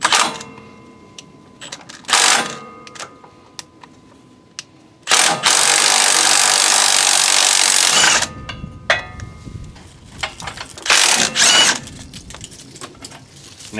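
Power tool, likely an impact wrench, loosening the bolts on an ATV while mounting tie-downs, a hydraulic line guard and LED headlights; one loud, steady three-second burst of buzzing is surrounded by shorter tool bursts and workshop clatter.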